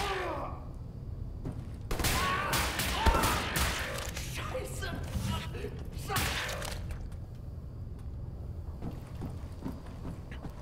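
Gunfire in the shooter Wolfenstein: The New Order, a dense burst of rapid shots and crashing impacts lasting several seconds, loud and close, with quieter mechanical game noise before and after.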